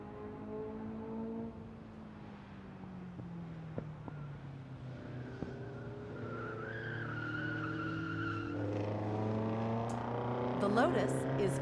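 A Lotus sports car races on a track followed by a Porsche, a Corvette and another Porsche, with a steady engine drone and tire squeal building toward the end while a voice talks over it.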